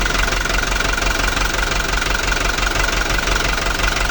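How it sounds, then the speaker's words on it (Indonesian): A Hino Dutro 130HT truck's diesel engine runs steadily with a loud, even knocking clatter, faulty in that it keeps running and cannot be shut off by the key. "Mesinnya bisa hidup tapi tidak bisa dimatikan langsung lewat kunci kontak"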